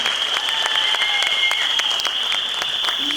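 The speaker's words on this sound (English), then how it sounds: "So please give applause for them" An audience at a children's annual day applauds kids standing on stage, scattered claps rising over a room with a steady high electronic whine. Separate hand claps stand out throughout at moderate volume.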